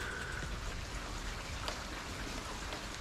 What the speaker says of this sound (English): Rain aplenty.